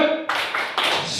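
A group performs the Indonesian 'tepuk salut' clap chant in a teacher training session: a few sharp, loud bursts of hands clapping together in rhythm, close by.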